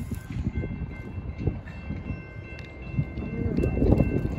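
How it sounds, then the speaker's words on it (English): A train passes near abandoned buildings, a steady loud low rumble with a faint high whine and clacking, swelling toward the end. "Oh no, there's a train."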